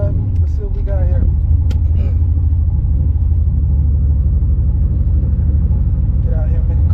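A turbocharged car on its first test drive after boost tuning, a loud, steady low engine rumble heard from inside, constant throughout with a few faint voices over it.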